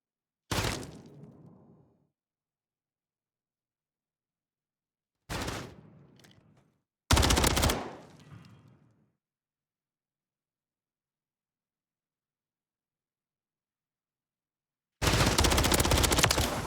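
Gunfire from a gunfight in the video game Call of Duty MW3: loud, close bursts of rapid automatic fire, separated by silent gaps, with a final sustained burst.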